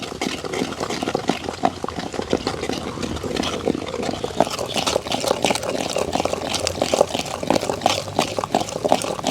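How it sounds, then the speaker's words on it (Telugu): Water is poured into dal cooking in a pot, making a continuous splashing, bubbling trickle with irregular crackles. It sounds close and moderately loud, with no voices over it. "కొద్దిగా దీంట్లో నీళ్ళు అయితే పోసుకుంటున్నాం."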